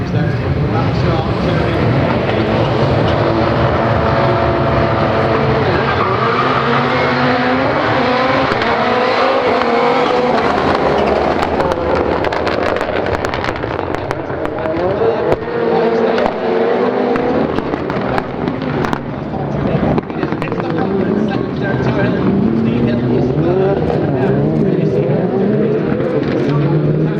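Rallycross race cars roar around Silverstone in a round of the British RallyCross championship, engines loud and continuous with revving surges and passing howls, a commentator talking over the racing throughout.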